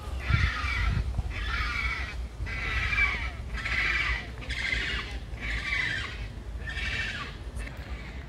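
Birds squawk and caw repeatedly at the African-themed zoo in Dvůr Králové, Czech Republic, eight or so loud, evenly spaced harsh calls filling the scene over a low rumble of background noise.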